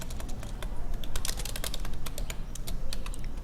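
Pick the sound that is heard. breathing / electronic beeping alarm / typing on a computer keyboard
typing on a computer keyboard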